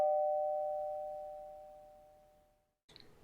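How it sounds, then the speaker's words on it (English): A house doorbell gives a single clear chime that rings out and slowly decays over a couple of seconds, followed by a brief soft knock or rustle at the end. "I rang the bell on the stick house."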